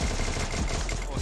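Dense, fast burst of automatic gunfire in a video game, clattering continuously at close range with a harsh, crackly texture and no pauses.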